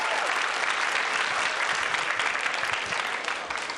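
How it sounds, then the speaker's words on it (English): A dense, loud wave of applause fills the hall at the final of the 2005 World Pool Championship, with continuous clapping from a large crowd sustained throughout and easing slightly at the end. "Listen to the crowd."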